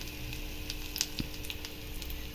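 Groundnuts dry-roasting in a pan for a chutney give a soft, steady sizzle with faint crackles and small ticks as they shift, close and fairly quiet, with no voice.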